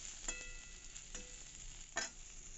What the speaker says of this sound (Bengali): ডাঁটাগুলো দিয়ে একটু নাড়বো, মিশিয়ে নেবো আলুটার সঙ্গে ডাঁটাটা।